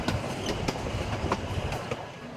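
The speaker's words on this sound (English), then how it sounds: "The narrow gauge track of this rail line allows the train to make the sharp corners" A narrow gauge train rolls along the rails through a steep canyon by the Urubamba River in Peru, with rhythmic clicking wheels and a steady rumble, fairly distant and continuous.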